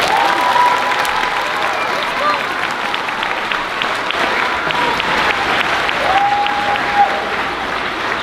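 An audience claps steadily for about eight seconds at a 5th grade moving-up ceremony at a school, with a few faint voices and whistle-like tones mixed into the dense applause.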